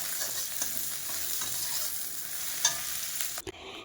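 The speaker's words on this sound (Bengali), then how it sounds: "তো ফোড়নটা এখানে ভেজে নিচ্ছি, ভাজা হয়ে গেলে ডালের মধ্যে দিয়ে দেবো।" Cumin, bay leaf, chilli, onion and garlic tempering fry in a little hot oil for dal, giving a fine, even sizzle close by that drops off sharply near the end.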